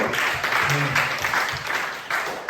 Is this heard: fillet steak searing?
no